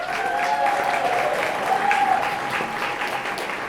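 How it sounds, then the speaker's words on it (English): A crowd at an outdoor Juneteenth celebration in Hannibal Square claps in a loud, sustained round of applause, steady throughout with a faint whistle or cheer mixed in. "One more round of applause, please."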